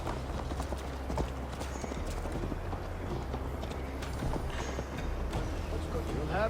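Horse hooves clip-clop at a steady gallop in Assassin's Creed Valhalla as riders set out for Tamworth Fortress. The hoofbeats run continuously and close, with talk over them.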